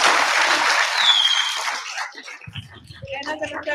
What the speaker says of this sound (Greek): Ένα χειροκρότημα για εσάς.